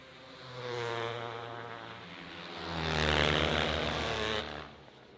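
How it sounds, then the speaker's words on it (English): Kawasaki ice racing motorcycles on a track, two loud engine passes swelling and fading in turn, each a buzzing high-revving whine with a brief lull between them and no talk over it. "4 down, 1 to go for Ryan Rondeau, who is having no trouble on that Kawasaki so far"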